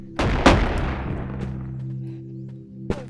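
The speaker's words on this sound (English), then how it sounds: "let me use one shotgun, bro" A shotgun fires once in the VR game Animal Company, a sharp close blast at the start with a decaying tail, followed by a fainter second thump near the end and a steady low game hum underneath.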